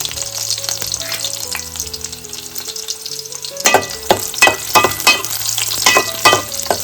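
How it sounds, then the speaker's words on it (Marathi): Garlic fries in hot oil in a pot over a wood-fired clay stove, a loud, dense sizzle that runs throughout, with sharper crackling pops and stirring scrapes in the second half. "टोपामध्ये तेल घातलेलं, लसूण घालून घेतले, मस्त तेल तापलेलं आहे"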